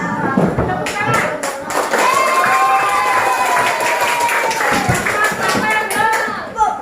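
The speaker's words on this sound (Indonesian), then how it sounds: "Tepuk tangan." Students clap their hands in a classroom during a teacher-training lesson, a run of sharp, uneven claps mixed with children's voices and chatter throughout.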